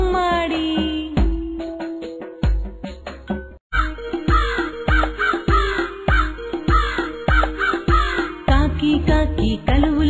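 A crow's caw set into a Telugu nursery rhyme, repeated in a steady rhythm over a loud, busy musical backing with singing, the calls punchy and close rather than natural or distant.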